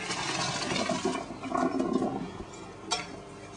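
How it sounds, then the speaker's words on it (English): Cooked trottole pasta being drained, a rushing pour of water splashing out for a few seconds, with a sharper slosh near the end, loud and close with no voices. "when the pasta's ready, drain it"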